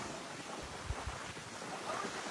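Strong wind gusting steadily across a foggy Matheran hill station, a close, roaring rush buffeting the microphone with no talk over it.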